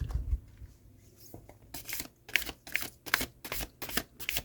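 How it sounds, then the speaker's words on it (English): Large glossy oracle cards being shuffled, a few soft handling sounds at first, then a series of sharp riffling bursts in a fairly regular rhythm, close and clear. "These are very large cards, so it's going to be a little awkward to shuffle."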